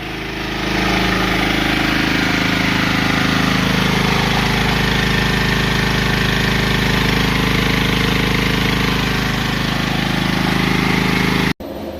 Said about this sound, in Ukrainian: Генератор 7 кВт Дніпром.